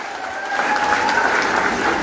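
Steady crowd applause at a Kikuyu-language celebration event honoring a woman called Bibi Top, swelling after the first half second and holding dense and continuous throughout, with no speech over it.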